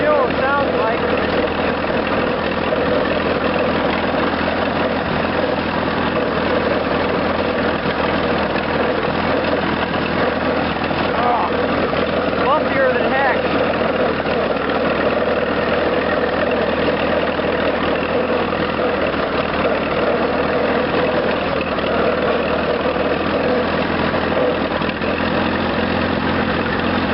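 A Farmall Regular tractor engine idles roughly and continuously, sputtering unevenly as if starved of fuel, with someone talking over it now and then.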